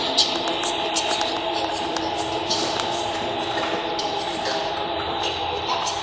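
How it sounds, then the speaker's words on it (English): Train rumbling and rattling continuously, heard from inside the Waverly Hills Sanatorium building, steady and fairly loud with some faint clanks. "That's why we can hear the train so well"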